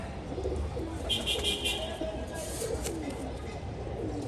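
Pigeons coo softly in a loft where young birds are being sold, a low steady murmur under constant background noise, with faint brief chirps.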